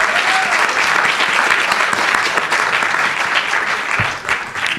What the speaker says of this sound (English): Perhaps we give a round of applause to show our gratitude